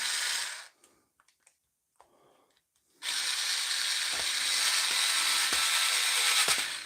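A cordless power tool converted from Draper to DeWalt Flexvolt whirs loudly and briefly, pauses with faint handling clicks, then runs again with a steady whir broken by several sharp clutch clicks at 4 newton meters of torque.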